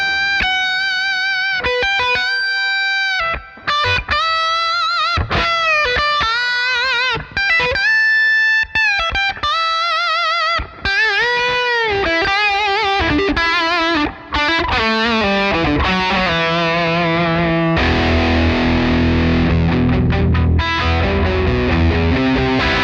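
An electric guitar runs through a REVV G4 distortion pedal set to high gain, playing thick, saturated chords and riffs with short stops and long sustained crunch. It is loud and close, with no talk.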